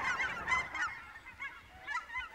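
Geese honking repeatedly at an Oregon wetland along the Columbia River, loud nearby calls in bursts with quieter honks answering further off.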